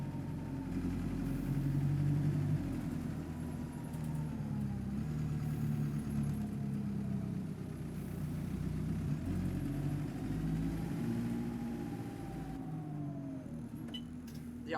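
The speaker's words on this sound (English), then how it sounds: "quite nice to obviously hear the sound of the bus." A London Citybus C20 bus in the OMSI 2 simulator runs with a steady, droning engine and gearbox hum, with pitch rising and falling through gear changes over about fifteen seconds.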